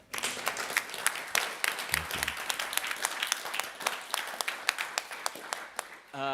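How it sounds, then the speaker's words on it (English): Audience applause for event organizers at the BLISS 2025 gathering, a steady wash of many hands clapping for several seconds that fades out at the end. "another round of applause for the organizers here"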